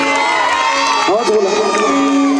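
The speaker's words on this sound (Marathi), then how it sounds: "अशोक भाऊ यांच्यासाठी एकदा जोरदार टाळ्या हो द्या" Crowd at a Ramai Ambedkar birth anniversary music programme cheering and whooping for the organiser, loud and close, with a sustained tonal sound running underneath the noise.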